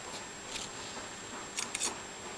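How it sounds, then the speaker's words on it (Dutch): A phone camera snaps a photo, giving a few faint, quick shutter clicks close together over a quiet background hiss. "Heeft de foto gemaakt."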